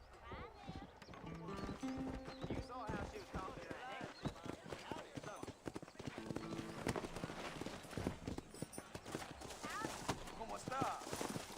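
Horse hooves clip-clopping at a steady trot in the video game Red Dead Redemption on PS5, heard beneath continuous speech and game music.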